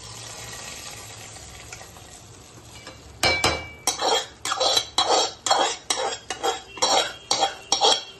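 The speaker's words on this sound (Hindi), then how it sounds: "अब इसमें हम तड़का मार रहे हैं।" A quiet sizzle, then a sharp hiss as hot oil tempering hits a pot of jackfruit curry, followed by a steady run of loud, rhythmic metal clinks from a spoon stirring.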